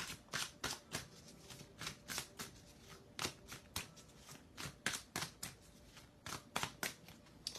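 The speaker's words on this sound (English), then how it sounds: "All right, so I'm shuffling away" Tarot cards shuffled by hand, a close, crisp run of rapid riffles and flutters repeating in quick bursts across the whole stretch. The shuffling plays alone with no talk.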